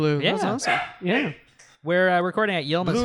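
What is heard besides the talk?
dog barking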